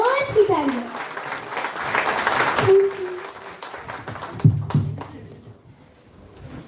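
An audience applauds at a singing competition, a burst of clapping under a speaking voice that rises for a few seconds and then thins out as the talking continues.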